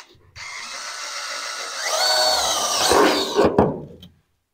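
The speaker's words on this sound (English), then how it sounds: "I'm going to drill here." A power drill whirs steadily into a NASCAR chassis for a few seconds, pitch rising and straining as it bites, then stops abruptly.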